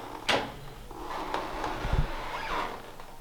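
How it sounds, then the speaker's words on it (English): Old wooden doors at a historic fort being opened, a few short knocks and creaks with one firmer thump near the start and another around the middle, close by and moderately quiet with no talk. "it's probably getting old to see me opening these doors."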